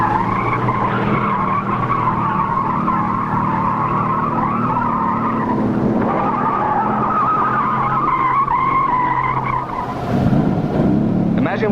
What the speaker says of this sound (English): This driver is entering a slippery turn too quickly. He panics and jams on the brakes.